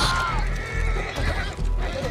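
An injured horse in Red Dead Online lets out repeated whinnies and neighs over shuffling hoofbeats, loud and close, with faint game ambience behind.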